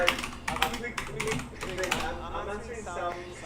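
Rapid clattering keystrokes on a computer keyboard in bursts, close and fairly loud, then thinning into lighter taps with faint background tones.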